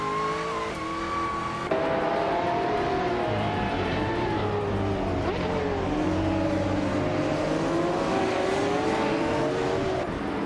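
Racing video game engines, led by a 1996 Porsche 911 GT1: a steady high engine drone with shifting pitch that jumps louder after a gear change, runs continuously and stays close throughout.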